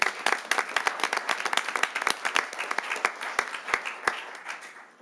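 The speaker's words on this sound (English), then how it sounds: "So one more round of applause if we could." Audience at a city council meeting breaks into a round of applause, dense steady clapping from many hands with sharp individual claps standing out, fairly close and lasting throughout.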